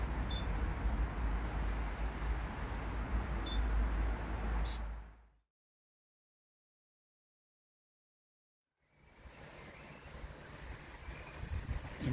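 At a Norfolk riverside during a carp fishing trip, a few faint camera shutter clicks sound under heavy wind noise. The sound cuts to silence midway, then the wind returns.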